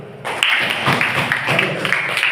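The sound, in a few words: applause from a class of students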